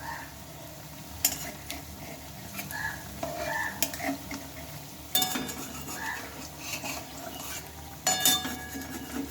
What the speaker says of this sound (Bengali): এবার এগুলোকে লাল লাল করে মুচমুচে করে ভেজে নিতে হবে